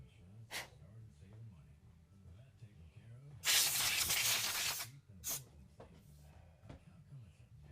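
A short, loud blast of compressed air blows off parts of an R8 spindle and its quarter-inch collet on a milling machine, a steady hiss lasting over a second between faint clicks, with a low voice murmuring underneath.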